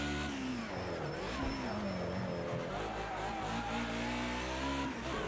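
A BMW M3 Sport EVO Group A race car in the Project CARS 2 racing game at Bathurst, its engine revving continuously and loudly with shifting pitch as it accelerates and slides through corners, heard alone without talk.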